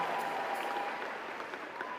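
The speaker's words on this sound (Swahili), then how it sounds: "Tumpigie Mungu makofi." Church congregation clapping together during a Catholic homily in Tanzania, a dense, steady wash of applause filling the whole moment with no break.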